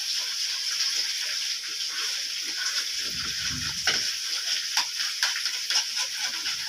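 Chicken handi masala with turmeric and red pepper sizzles steadily in a pot as a spoon stirs through it, giving a constant bright frying hiss with occasional scrapes and thuds near the middle, close and loud, without speech.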